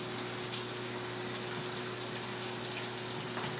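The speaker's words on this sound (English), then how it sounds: "these mushrooms are going to saute and cook down a little bit" Chopped mushrooms sizzle steadily in a hot pan beside pork chops, a dense, even frying hiss with a constant low hum underneath and no talking.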